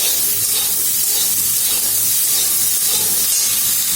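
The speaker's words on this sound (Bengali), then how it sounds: "এরপর আমগুলোকে ভেজে নেব হালকা লাল লাল করে" Mango pieces for a chutney fry in a pan with a continuous, loud, close hiss that stays even throughout and sounds almost like steam, with no talking.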